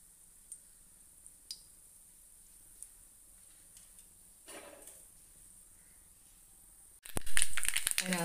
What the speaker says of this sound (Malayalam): നല്ലെണ്ണ ചൂടായി, അതിനകത്തേക്ക് ഒരു ചെറിയ സ്പൂൺ കടുകിട്ട്